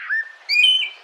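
A Greater Racket-tailed Drongo sings a short phrase of clear whistled notes, a rising slur followed by a brighter, higher whistle, close and distinct against silence.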